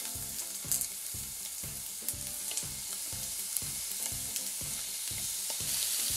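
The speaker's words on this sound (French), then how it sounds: "On passe à la cuisson des brochettes yakitori." Marinated yakitori skewers fry in a pan with a steady, even sizzle and a regular pulsing crackle throughout, close and continuous with no voices.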